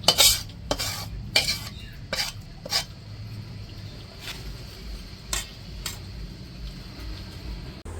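Metal clatter of a pot of shrimp and potato curry being handled and lifted off a village stove, a few sharp clanks and scrapes at first, then quieter occasional knocks over a soft background hiss.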